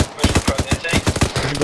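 Rapid section fire in ArmA 3 with a British milsim squad, a fast rhythmic rattle of automatic shots, close and loud, about a dozen sharp reports in quick succession.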